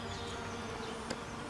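Foraging bees hum in a steady, dense buzz that fills the whole stretch with even loudness, and a faint click sounds near the end.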